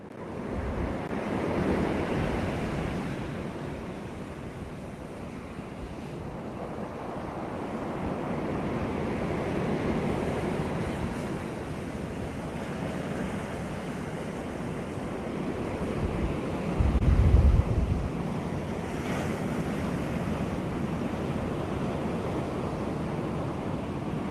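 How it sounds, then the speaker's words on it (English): Ocean waves wash steadily onto a shore with continuous rolling surf and some wind noise, one brief louder low rumble of a wave surge midway, no voices. "for 30 seconds, we're just going to listen to the sound of the ocean."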